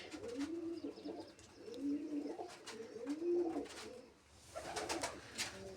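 Pigeons cooing nearby in a slow, regular series of about four deep, rolling coos with short pauses between them.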